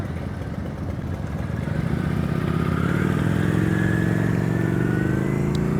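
Motorcycle rolling at slow speed during a riding-skills practice session in Florida, a steady close engine drone with a faintly rising and falling tone, continuous throughout without fading.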